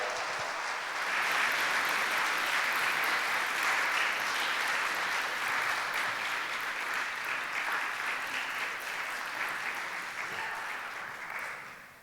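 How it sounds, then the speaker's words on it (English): Sustained applause from an awards show audience at a horror game awards ceremony, a dense wash of clapping and cheering that swells early and stays loud and even for the whole stretch. "please give her a big round of applause"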